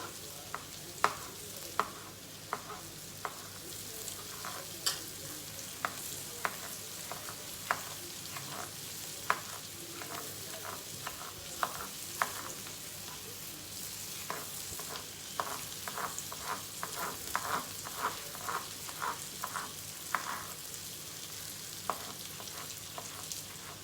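Food frying in Amul butter in a home kitchen pan, a continuous close sizzle with frequent light clicks and scrapes of stirring throughout, no voices.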